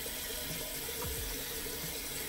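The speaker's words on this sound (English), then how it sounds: "I'm gonna turn the water on." Lukewarm tap water runs steadily from a bathroom faucet into a sink, a continuous soft hiss with no talking.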